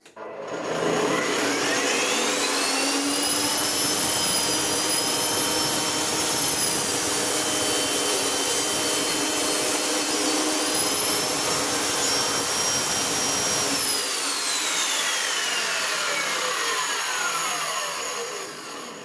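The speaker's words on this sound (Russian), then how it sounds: "Есть у меня вот такая вот дощечка. Давайте попробуем ее распустить." A circular saw with a new blade rips lengthwise through a wooden board, a loud, steady, close high whine that holds for most of the cut before the pitch sags and the blade spins down.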